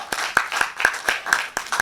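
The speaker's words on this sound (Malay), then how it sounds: "Satu tepukan untuk Tuan Syed kita." An audience at a 2023 Profima AGM claps for a guest in a steady, rhythmic beat of sharp hand claps, about four per second, close and fairly loud.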